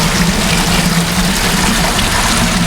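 Wastewater from plastics processing drains steadily out of a sludge filter press, a continuous rushing, gushing flow with a low pump-like hum underneath, close and even throughout.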